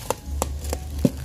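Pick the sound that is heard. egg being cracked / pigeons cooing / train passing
egg being cracked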